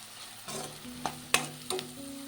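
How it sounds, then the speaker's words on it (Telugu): Onions frying in a pan until reddish, ahead of adding amaranth leaves and potato, a soft sizzle with three distinct stirring scrapes against the pan, near and unaccompanied by speech. "ఇది ఎర్రగా ఫ్రై అయ్యేదాకా ఫ్రై చేసుకుంటాం"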